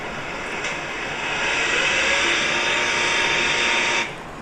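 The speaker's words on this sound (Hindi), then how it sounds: "अब हम इस गाड़ी को रेस देंगे" A diesel vehicle engine is held at full throttle and roars loud and steady for several seconds, swelling partway through, then the revs drop off abruptly near the end.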